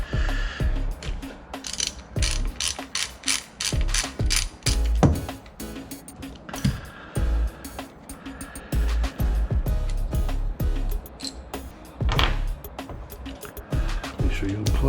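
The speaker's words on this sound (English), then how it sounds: "So you're gonna need a 10mm socket to remove your spark plugs." Ratchet with a 10mm socket loosening spark plugs on a 2018 Yamaha EX/TR-1 engine, giving repeated sharp clicking bursts in short uneven runs, close and fairly loud, with brief pauses between strokes.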